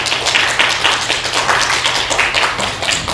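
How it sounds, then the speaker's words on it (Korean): A church audience claps to welcome a visiting professor, a steady patter of many hands at close range and fairly loud for about three seconds. "박수로 맞이하겠습니다"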